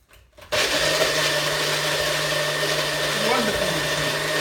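A Magic Bullet blender whirs steadily at close range while blending almonds into almond milk, a loud continuous motor drone starting abruptly after a brief quiet moment.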